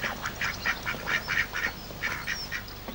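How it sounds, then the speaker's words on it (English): A white duck quacks in a quick run of repeated short calls, close and fairly loud, with brief pauses between bursts. "Look at the white duck."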